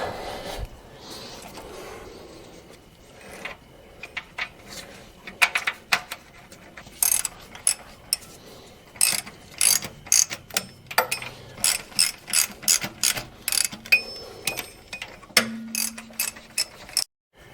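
Ratchet wrench tightening bolts on a Caterpillar D4 transmission, a series of quick clicking ratchet strokes that start sparse and grow into steady rhythmic bursts, close up, with faint metallic shuffling between.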